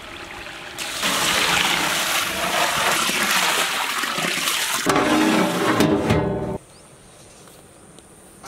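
Water pours steadily into a cooking pot in a loud, splashing stream for several seconds, then cuts off, leaving a quieter trickle.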